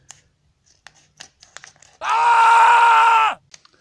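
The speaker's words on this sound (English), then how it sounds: "So I'm opening them with a scissor." Scissors cutting open a Yu-Gi-Oh! booster pack, heard as a loud, steady ripping slice that lasts a little over a second. Small crinkles and handling clicks of the foil wrapper come before it, and all of it is close.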